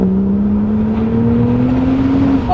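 A Ford Falcon XR6 Turbo Sprint (FG X) with a turbocharged Barra engine revs up smoothly, its pitch rising steadily as it gains speed, loud and close with no talking.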